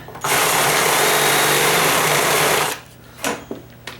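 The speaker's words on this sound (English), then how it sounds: "I just have to ream out that hole a little bit bigger." A power drill reaming out a hole for a wall-mounted TV whines steadily at high speed for a few seconds, then stops, followed by a couple of short clicks and bursts.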